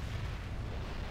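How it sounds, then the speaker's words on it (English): A fuel air bomb detonates on a command center in the real-time strategy game Command & Conquer Generals, a dense, rumbling blast roar filling the moment with no talk over it. "And a fuel air bomb on the new command center."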